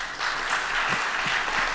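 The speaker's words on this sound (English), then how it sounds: "Big round of applause" Broad, even applause from a conference audience as two speakers take the stage at a developer event, sustained and fairly close, with a few low thumps underneath.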